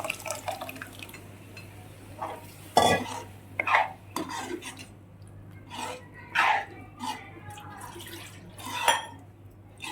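A spoon scrapes and clinks against a pot in short irregular strokes, stirring boiled dal into fried spices, thick and wet, with quiet pauses between the stirs.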